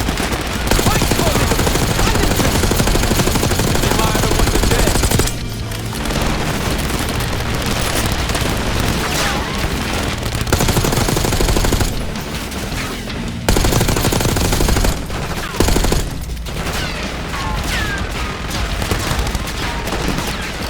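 A minigun in the Call of Duty: Black Ops 6 video game fires in long, rapid, roaring bursts with brief pauses between them, loud and close, with explosions in the mix.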